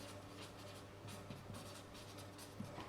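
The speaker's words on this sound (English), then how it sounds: "All right, so I'll just write it down." A pen scratches across paper in short, quiet strokes, close and soft, with no talking.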